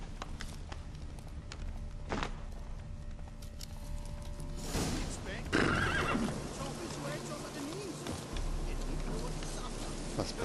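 A horse whinnies loudly mid-clip amid hoof clip-clops and background rumble, with voices speaking around it, in The Witcher 3: Wild Hunt.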